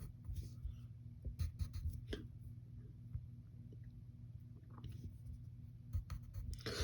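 A pencil scratches steadily across paper, drawing the cheeks of a cartoon Mr. Incredible face. Close, continuous soft strokes are punctuated by sharper quick marks, and a low background hum runs underneath.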